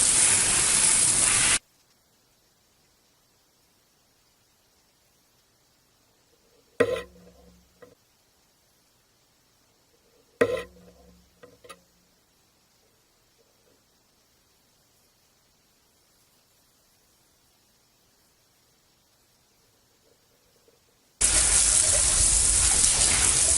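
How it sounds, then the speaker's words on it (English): Loud hissing spray of a hose jetting hot water onto a muddy mountain bike bursts on and off at the start and end, with a couple of clunks in the quiet between. "Hot water breaks through the mud pretty nice, so try not to spray it on the field"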